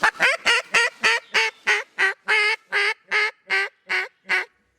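Duck call blown to imitate a hen duck, a series of about fourteen evenly spaced, loud, nasal quacks close up, each a short burst, descending in a back-and-forth cadence with no talking.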